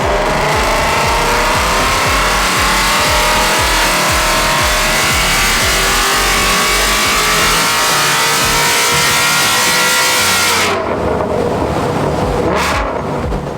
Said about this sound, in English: We've also installed a baller catback system on this. It is mega loud, it sounds epic.